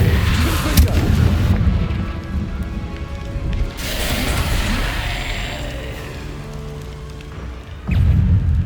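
A Confringo spell explodes in Hogwarts Legacy: booming fiery blasts with crackling debris rolling off, two heavy bursts separated by a decaying tail, loud and close amid game ambience.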